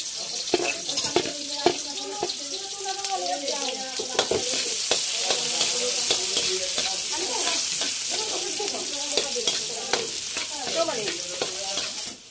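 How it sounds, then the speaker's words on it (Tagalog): Onion and garlic sizzle steadily in hot oil in a pan, a continuous close frying hiss broken by the scrape and clack of stirring. "lalagyan na natin yung ating sibuyas at bawang."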